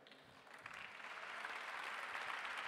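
Broad applause from a crowd at the Campus Party Italia main-stage closing ceremony, rising slightly and holding steady, heard at a distance.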